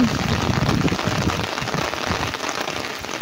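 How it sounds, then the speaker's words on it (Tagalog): Heavy rain pours steadily, a dense continuous hiss of drops drumming on surfaces, close and loud throughout. "Lumakas na tuloy yung ulan."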